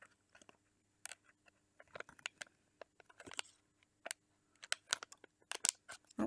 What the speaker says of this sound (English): I'm gonna snip up here just so I don't cut any capes.